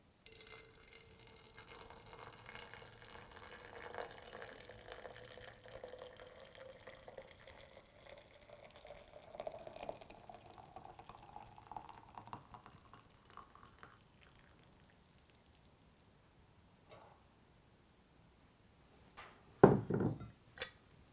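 Liquid trickles slowly into a glass jar of frozen elderberries, a faint, steady pour with a rising pitch as the jar fills, and then a sharper clink near the end.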